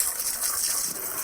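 Water is sprayed onto a washing machine during a home service, producing a steady, close hiss that runs through the whole moment.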